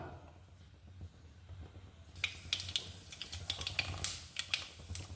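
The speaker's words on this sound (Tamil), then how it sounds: "கடுகு பொரிஞ்சிருச்சு." Mustard seeds crackling and popping in hot oil in a pan for a small-tuber stir-fry, starting as a quiet hum and then breaking into sharp, irregular pops partway through, close and fairly clear.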